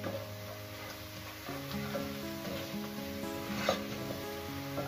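Whole cumin, cloves and whole garam masala sizzle and crackle steadily in hot oil, a close, continuous frying hiss with small pops and faint stirring.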